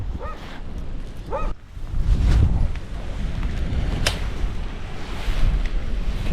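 Strong wind buffets the microphone out on the water during bass fishing, a loud rumbling gusty roar that surges and eases, with faint water sounds and brief squeaks early on.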